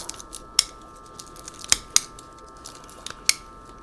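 Ironwood ratcheting pruners snip at a tough branch while trimming a tree, giving several sharp, close metallic clicks and snaps spaced irregularly over a quiet background.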